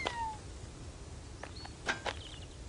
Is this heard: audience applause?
no